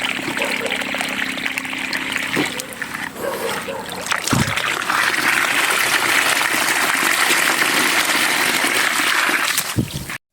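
Free-flowing irrigation water runs at a calamansi farm in La Union, a steady, close rush and splash lasting throughout with no voices.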